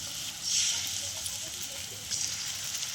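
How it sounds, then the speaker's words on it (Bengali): Two spoonfuls of batter sizzle in hot oil in a wok for a pani phal patishapta, a steady soft hiss with a brief louder flare near the start and again toward the end. "কড়াতে আমি তেল দিয়ে দিয়েছি তো এখানে আমি দু চামচ ব্যাটারটা দিয়ে দিলাম"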